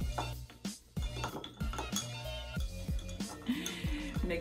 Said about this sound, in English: if you want, you can just do a quick little stir